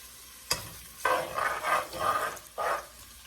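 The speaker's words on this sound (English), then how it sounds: "Y'all can hear that sizzle." Sliced onions sizzling and crackling in a hot frying pan, with bursts of stirring and scraping that rise and fall several times; close by, no voices.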